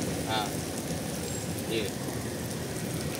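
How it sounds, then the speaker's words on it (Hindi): Heavy downpour in Bidar city during a sudden afternoon storm, a steady dense hiss of rain on surfaces throughout, with faint brief tones and noise over it. "अचानक मौसम बदल गया और तेज और मूसलाधार बारिश हुई।"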